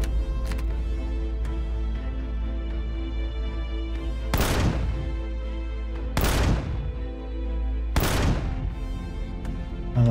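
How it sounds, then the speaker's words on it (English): Blocks popping and exploding in Empyrion Galactic Survival, three sharp bursts spaced a couple of seconds apart over a steady low hum. "Here another one that's going to pop and explode."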